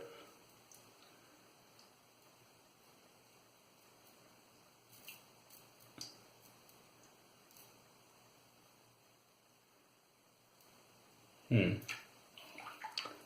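Water is splashed onto skin during a wet shave with a Maggard MR1 razor and Italian Barber Amici soap. Quiet background hiss and soft ticks lead to a sudden close splash near the end, followed by a few smaller drips.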